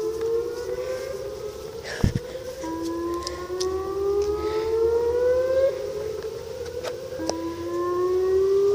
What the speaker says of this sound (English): tornado sirens are going off